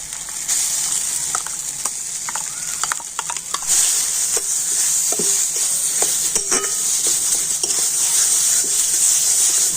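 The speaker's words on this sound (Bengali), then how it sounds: "প্রথমে কড়াইশুঁটিটা একটু তেলের মধ্যে ভালো করে নাড়াচাড়া করে নিলাম" Green peas with whole cumin seeds fry in hot oil in a kadai. A steady, loud sizzle runs throughout, and scattered clinks and scrapes from the stirring spoon sound close by. No one speaks.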